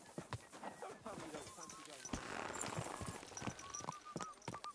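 Horse hooves clip-clopping on a path in the medieval video game Kingdom Come Deliverance 2, a steady walking rhythm mixed with ambient game sounds and spoken dialogue throughout.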